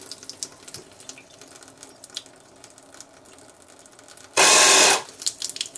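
Water forced out through a Lippert Floë automatic RV drainage system during winterizing comes as a sudden loud hissing gush lasting under a second, alone after quiet background.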